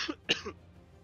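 A single short cough or throat clear bursts out close to a microphone during an online tabletop game session, brief and sharp, followed by quiet room noise.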